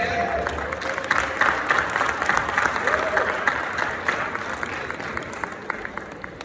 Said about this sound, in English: Okay, get them here with an applause,